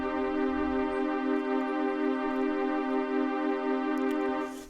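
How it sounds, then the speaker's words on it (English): A sustained microtonal Novum decimal Godzilla triad, a 250-cent interval with a perfect fifth, holds steadily with a wailing, gently pulsing beating, fairly quiet and alone. "This is the Novum decimal Godzilla"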